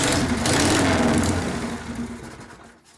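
A 1973 Harley-Davidson FX 74ci shovelhead V-twin idles close by with a steady, lumpy rumble that fades slightly toward the end, running a little rough at low speed.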